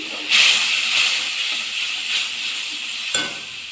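Water poured into hot oil with fried pointed gourd for a sesame curry bursts into a loud, steady hiss close by, easing slightly and then sustaining, with a brief clatter near the end and no talking.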